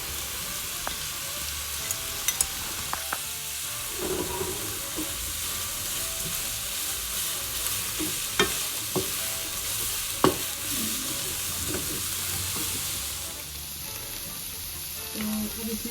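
Chicken pieces sautéing in oil in a pan for chicken cheese fingers, a dense continuous hiss and crackle with occasional clicks of a spoon stirring, steady and close throughout.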